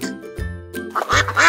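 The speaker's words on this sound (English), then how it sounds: "Duck." A duck quacks in a few loud, close, nasal calls with brief gaps between them, heard alone without any talking.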